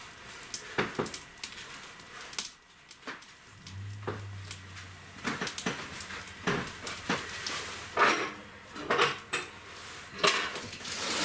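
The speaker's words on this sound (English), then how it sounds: "I'm going to load up the barrel stove" Wood pieces knock and clunk as they are loaded into a barrel stove, with sharp irregular thuds and clatters up close and a brief low hum in the middle.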